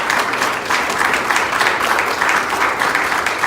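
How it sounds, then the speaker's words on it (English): A live church-service audience claps steadily at a Pride service of affirmation, dense and sustained applause filling the room without pause, moderately close and loud. "we're going to give her a round of applause as she comes up"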